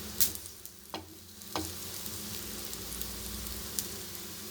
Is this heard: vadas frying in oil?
yes